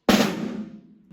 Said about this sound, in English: What we don't want to do, that often happens with young players, is that the grace notes are played too loud.